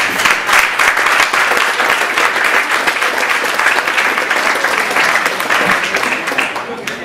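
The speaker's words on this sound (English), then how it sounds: "deserve a good round of applause." An audience gives sustained applause at a school senior sports awards event, a thick, continuous roar of many people clapping in a hall, with some voices mixed into the crowd noise.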